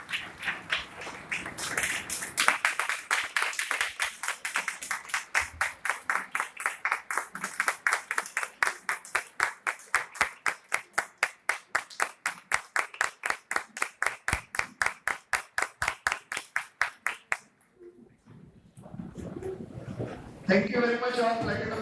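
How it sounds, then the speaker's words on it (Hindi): An audience claps in unison to welcome a woman to the stage at an indoor training session, a steady fast rhythmic clapping that goes on for about seventeen seconds and then stops, with speech resuming near the end. "और अब मैं आप सबकी तालियों के साथ खड़े होकर मैडम को इनवाइट करना चाहूंगा।"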